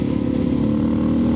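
A Suzuki DR650 motorcycle engine and exhaust while riding, giving a steady, loud, close drone with a rough low rumble throughout.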